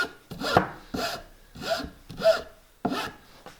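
A hand file rasps across the frayed ends of a wooden board in five short, separate strokes, close and fairly quiet, with pauses between them and no talking.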